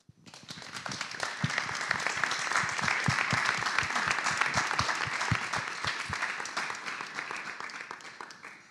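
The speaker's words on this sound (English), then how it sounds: "And I think they deserve a round of applause" An audience at a 5G and connected-society panel session applauds the panelists with a full round of clapping. It swells in quickly, holds steady with sharper claps standing out near the front, then thins toward the end.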